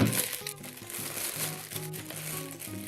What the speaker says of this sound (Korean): 비닐이 잘 쌓여져 있고요.